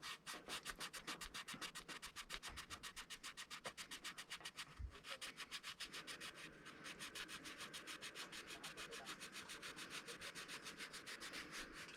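Rhythmic back-and-forth sanding on a guitar neck, even repeated strokes rasping close and steady, with a brief knock partway through and no talk.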